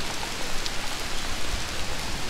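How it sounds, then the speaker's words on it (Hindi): Steady rain falls outdoors near a shopping stop, an even hiss of drops with no gaps and no voices. "बाकी सब जगह पे बारिश है।"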